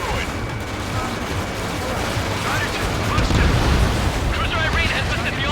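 A missile strike destroying an enemy naval vessel in the Ace Combat 7 video game, a sustained rumbling explosion with crackling debris and heavy low roar, while voices talk over it.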